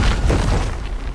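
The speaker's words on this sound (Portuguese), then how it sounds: "Ele usa suas granadas para explodi-lo." Grenades exploding in an animated Flash story, a dense low boom that fills the short stretch with rumbling burst energy and no audible speech.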